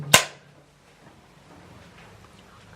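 A film clapperboard snaps once, sharp and close, at the start of a take, followed by quiet room tone.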